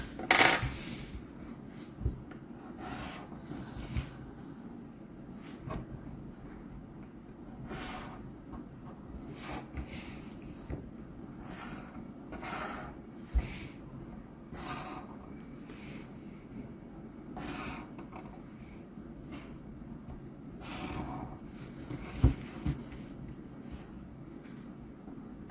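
A pen or marker draws a table on paper while a maths exam question is worked through, giving soft, scratchy strokes in short irregular bursts over a faint room hiss. No one speaks.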